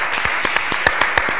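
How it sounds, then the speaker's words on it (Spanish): A studio audience applauds guests at an awards-nomination broadcast: a steady, dense wash of clapping at moderate loudness, with a few sharper individual claps standing out. "Fuerte el aplauso para ellos."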